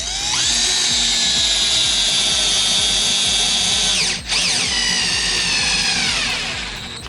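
TECCPO cordless drill boring through wood on its lower, high-torque speed: a loud, steady whine held for several seconds, with a brief dip as the bit bogs, then resuming strongly before easing off.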